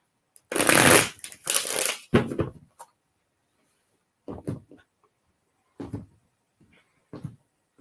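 A deck of tarot cards shuffled in several close, crisp bursts, two long riffles followed by shorter, quieter shuffles spaced out with pauses.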